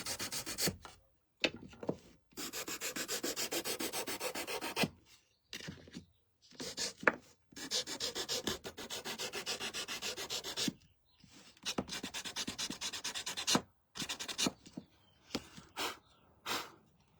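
Sandpaper rubs the edges of a painted wooden chicken garden stake, close rhythmic scratchy strokes in bursts separated by short pauses.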